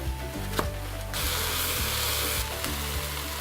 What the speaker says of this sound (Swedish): nu gör jag så att jag sätter på plattan och drar i smöret, så kan det här börja steka